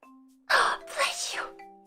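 A woman sneezes twice in quick succession, two loud, breathy bursts close to the microphone, with a steady tone humming in the background during a streamed drawing session.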